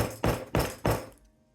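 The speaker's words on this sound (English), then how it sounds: "We're gonna give it a little hammer." Three sharp metallic hammer strikes on a metal grommet in even succession, close and loud, each ringing briefly before the next, then quiet.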